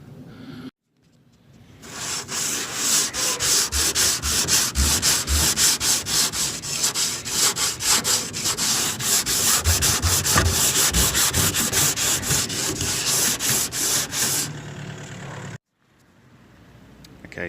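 Hand sanding of a Land Rover Lightweight's bodywork panel with coarse abrasive paper: a steady, loud, rhythmic rasping of rapid back-and-forth strokes lasting over twelve seconds, close up, with brief quiet gaps at the start and end.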